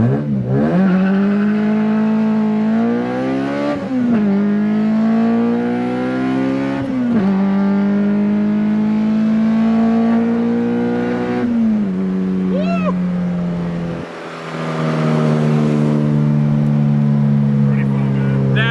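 A B16-swapped Honda EF hatchback engine revs hard while driving, pulling up through gears in repeated rising surges, loud and close, with a brief lift-off near the end before climbing again.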